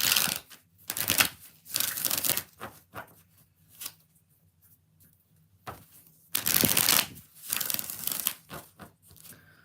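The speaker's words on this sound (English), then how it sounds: "3 more shuffles." Tarot cards are shuffled close up in crisp, riffling bursts, several rapid rounds separated by pauses, with faint background sounds in between.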